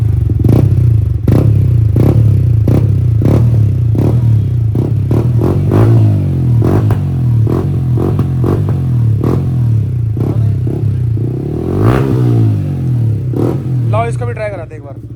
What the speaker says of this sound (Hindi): तो गाइस ये जो R9 एग्जॉस्ट है ये बहुत ही अच्छा एग्जॉस्ट है।